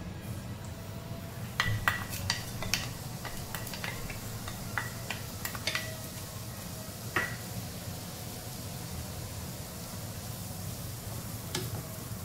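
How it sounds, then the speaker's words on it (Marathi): Semolina (rava) roasting in ghee over low heat as it is stirred, with a soft continuous sizzle and sharp scattered clicks and taps from the spoon against the pan. "आपल्याला तुपामध्येच रवा भाजून घ्यायचा आहे"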